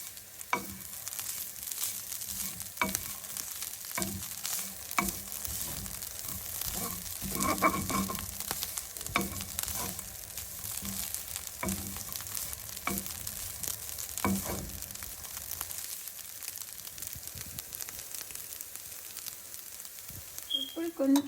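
Beetroot and grated coconut fry in a pan, a soft continuous sizzle broken by repeated scraping taps of stirring, close and steady, with no talking.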